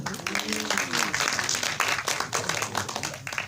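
A press conference audience claps for a cast member being introduced at a film cast announcement, a steady wash of many hands clapping with a brief tonal voice-like murmur near the start underneath.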